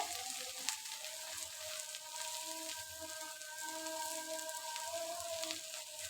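Okra bhaji fries in a pan with a soft, steady sizzle and crackle, fairly quiet, and a few faint stirring taps; no one talks over it.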